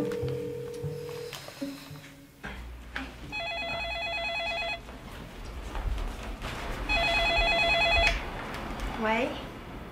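A telephone rings in two bursts of electronic trilling tones separated by a pause, fairly loud and close, with background rustling and a brief bit of music before.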